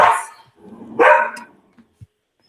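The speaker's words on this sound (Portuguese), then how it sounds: "Eu vou pedir que vocês tenham um pouquinho de paciência com meus cachorros" Two German shepherds and a boxer bark nearby, with a loud bark followed by a second, longer burst and then a few short, softer yips, all close and clear in a quiet indoor room.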